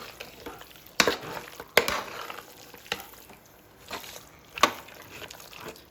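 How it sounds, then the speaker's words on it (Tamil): Mutton sautés in a pan with turmeric, salt and masala under a low, steady sizzle, punctuated by a few sharp scraping knocks of a stirring spoon; no talking. "மஞ்சள் மசாலாவோட மட்டன், மஞ்சத்தூள், உப்பு போட்டு நல்லா எல்லாத்தையும் நல்லா வதக்கணும்"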